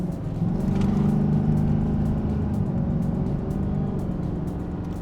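A Chevy Silverado 2500 diesel pickup pulls hard, its engine droning loud and low from inside the cab, rising as it accelerates with steady road and engine rumble throughout.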